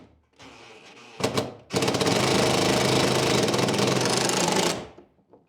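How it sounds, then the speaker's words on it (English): An impact drill whirs briefly, then hammers continuously in a loud rapid rattling burst for about three seconds while driving a screw into a wall stud, before stopping, with a few small clicks afterward. "My drill was like, making all those awesome impact noises"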